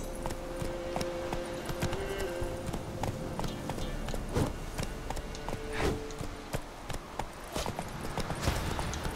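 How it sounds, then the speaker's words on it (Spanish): A horse gallops in the video game The Witcher 3, its hooves pounding in a rapid, uneven clatter that continues throughout, mixed with game ambience, a few tonal effects and scattered impacts. "Lo único que puedo hacer es intentar ir a caballo."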